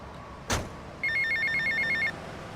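Payphone ringing in GTA Vice City, a bright electronic trilling ring of about a second, preceded by a short sharp knock or thud.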